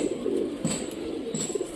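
A Rajshahi Giribaz pigeon gives soft, low cooing calls in short repeated phrases, close by, with faint background hiss.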